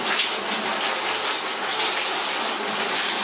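Old, stale water gushes and foams out of a garden hose during a car wash, giving a steady loud rushing spray with no voices.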